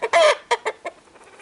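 A rooster in a farmyard gives a loud squawking cluck followed by several shorter, fading clucks, close and alone with no talk.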